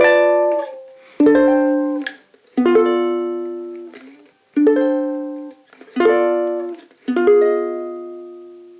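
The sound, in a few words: guitar chords in a moving pattern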